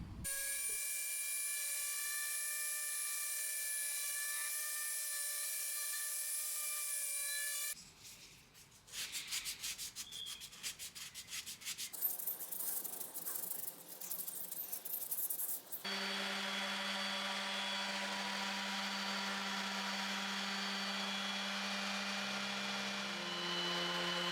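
Steady rubbing and grinding of sandpaper on pine drawers, broken by stretches of varied scraping, close and continuous with no talking.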